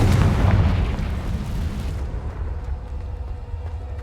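A Confringo blasting spell from Hogwarts Legacy erupts in a heavy, booming explosion, strongest at the start, then decays into a long low rumble with faint crackling debris trailing off.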